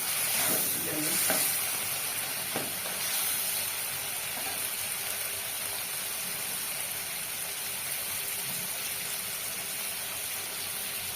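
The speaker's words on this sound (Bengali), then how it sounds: "রসুন বাটা দিয়ে দিলাম। আমি রসুনটা আগে কষিয়ে নিই" Garlic paste sizzles steadily in a hot pan with oil, a continuous bright fry with occasional stirring scrapes, close and alone without talk.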